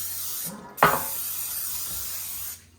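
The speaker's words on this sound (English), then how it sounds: "I'm gonna spray my pan well here with a nonstick spray." A quick short burst of aerosol nonstick cooking spray, then a longer steady hiss as the can sprays onto a baking pan, close and clear.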